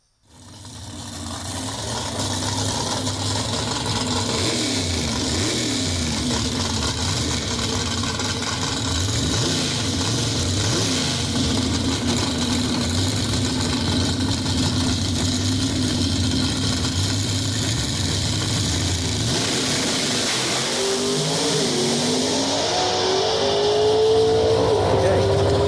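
A nostalgia drag race car, a Camaro with a Liberty transmission, roars steadily throughout, revving hard and accelerating down the track with the throttle lifted and reapplied; the engine is loud and close, heard from inside the car.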